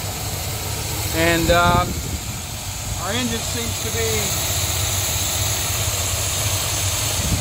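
An old Cadillac 472 V8 idles steadily at close range, a constant low rumble running under brief speech from a man.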